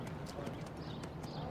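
Horses walk with steady clip-clopping hooves in a busy outdoor setting, the soft rhythmic thuds mixed with voices talking throughout.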